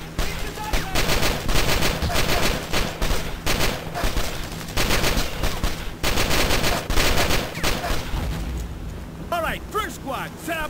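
Battlefield gunfire in the Brothers In Arms DS game, with an MG-42 machine gun among sustained bursts of loud, dense shots running almost continuously, plus layered battle noise and brief shouted voices.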